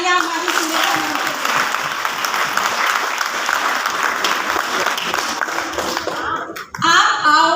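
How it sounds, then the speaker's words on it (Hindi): A live audience at a Modicare business meeting in India bursts into loud, sustained applause, dense clapping that runs steadily for several seconds before breaking off near the end, with a few voices rising briefly. "एक बार जोरदार तालियां"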